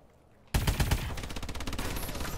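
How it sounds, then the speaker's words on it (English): An automated sentry turret in Call of Duty Advanced Warfare opens fire abruptly, a loud, sustained rapid-fire burst of rattling shots that continues steadily after a quiet start. "Watch, we're just going to let our turret do work right there."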